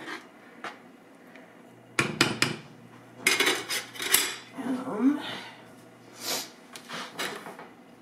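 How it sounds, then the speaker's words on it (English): A spoon stirs pork green chili stew thickened with flour and water in a pot, giving clattering metal scrapes and knocks against the pot in irregular bursts over a quiet background. "You want to give it a stir."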